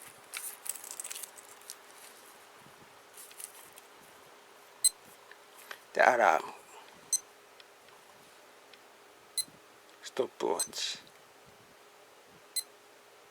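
A Casio A700W digital watch gives short, faint, high beeps at scattered intervals as its mode button is pressed, alongside soft button clicks and quiet speech.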